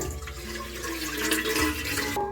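Rice being washed by hand in a container of water makes a close, steady swishing and sloshing sound that stops abruptly at the end.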